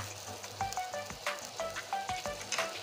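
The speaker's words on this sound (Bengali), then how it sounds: "এবার সর্ষের তেল দিয়ে দিচ্ছি।" Mustard oil sizzling and crackling loudly in a hot pan, a steady frying hiss with repeated bursts and a few clinks of a utensil, for a rohu fish curry with potato and pointed gourd.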